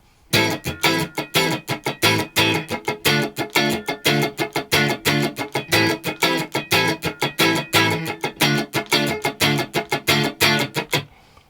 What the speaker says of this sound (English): I'm firstly going to play a little funk rhythm using the minor 1 chord and the minor 4 chord